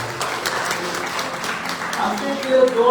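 Applause for Ankit John, third prize winner at a Sunday church service prize-giving, a broad steady clapping wash from a crowd with voices mixed in and rising slightly toward the end.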